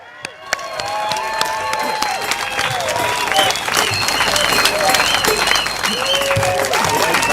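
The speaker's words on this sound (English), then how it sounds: "Can we have one more round of applause for Doc" Loud rally crowd at a Singapore election rally for the Progress Singapore Party in Marymount breaks into sustained applause and cheering, with whistles and shouts over dense clapping throughout.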